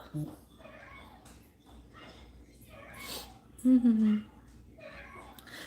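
A battery-powered toy cat gives a short electronic meow amid nearby talking, with soft whimpers and breathing from a dog around it.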